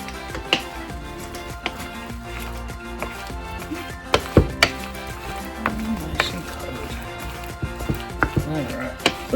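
Chopped apples, about three cups, stirred into batter for apple fritters with a wooden spoon, giving soft scraping swishes and scattered wooden knocks against the bowl, fairly close and with no talking.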